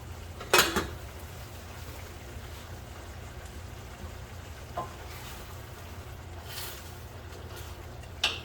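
A lid set onto a pot of cooking grits gives one sharp metallic clank near the start, followed by a quiet steady hum and a couple of faint knocks.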